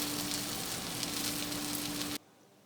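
Apple pancakes sizzling in a hot, slightly smoking pan, a steady bright crackling fry that cuts off abruptly near the end.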